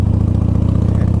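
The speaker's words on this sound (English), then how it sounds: "this is the loudest motorcycle I have now" Loud motorcycle engine idling close by, a steady deep throbbing pulse with a fast, even rhythm and no talk over it.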